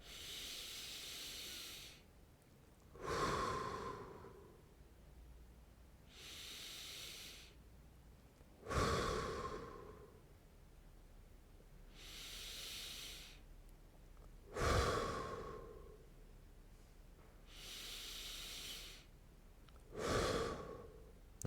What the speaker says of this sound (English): with the intention of breathing into the back.